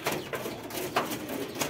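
Domestic native pigeons coo close by in a short burst of soft, repeated throaty calls over a low background, with no talking.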